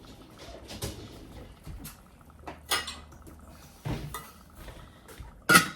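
A lid set over a pot of melting pantry ingredients makes a string of separate metallic clanks and clatters. They are spaced and quiet at first, with the sharpest, loudest clank near the end, over a quiet kitchen.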